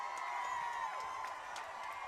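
Crowd at a high school boys' football game cheering and whooping, a steady wash of distant voices with scattered shouts rising above it.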